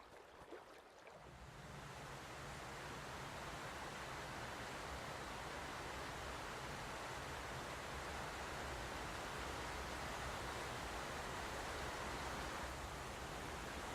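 Waterfall on the Yellowstone River, a dense, steady roar of falling water that swells in within the first second and then holds loud and unbroken.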